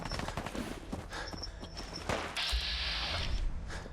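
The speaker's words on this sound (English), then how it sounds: "Oh, gunfire." Gunfire in Fallout 4 during a fight with super mutants, rapid rattling bursts of shots mixed with other game sounds, fairly loud and continuous over a few seconds.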